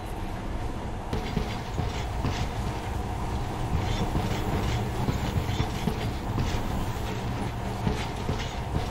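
A monorail train runs steadily, giving a continuous loud rumble with rhythmic clickety-clack and rattling throughout, with no voices.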